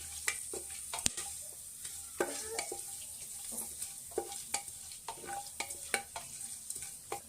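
Whole spices and masala fry for mutton curry in a pan over a low flame, a faint, steady sizzle broken by frequent light scrapes and clinks of a spoon stirring.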